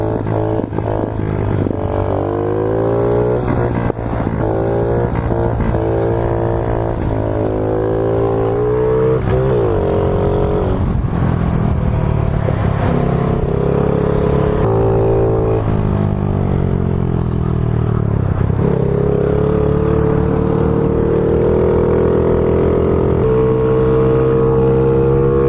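A street-legal 50cc pit bike engine drones loud and close while riding, its pitch rising and falling through repeated throttle changes and gear shifts without pause.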